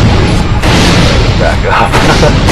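A vehicle-mounted rocket launcher fires in the video game Defiance during a player-versus-player match in a freight yard, with heavy booming blasts and crashes over a continuous loud roar.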